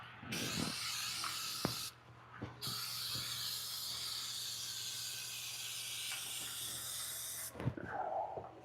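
An aerosol spray hisses steadily under a vehicle's bottom area in a garage, two long close bursts with short pauses and small clunks between them.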